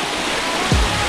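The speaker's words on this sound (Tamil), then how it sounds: "இங்க இருந்தா தண்ணி உள்ளது டைரக்டா அப்படியே கீழே போகுது ஸ்டெப்ஸுக்கு" Water pouring steadily down a rocky hillside toward stone steps at Korigad fort near Lonavala in foggy monsoon weather, a constant close rushing hiss with a brief low thump near the end.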